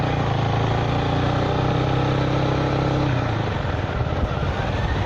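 A Zontes V310 motorcycle being ridden, its engine a loud steady drone close by with wind roar, the pitch easing off partway through as the rider backs off the throttle.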